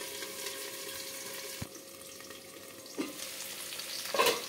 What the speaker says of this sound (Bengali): এটা সজনে ডাঁটা আলু আমি লাল লাল করে ভাজবো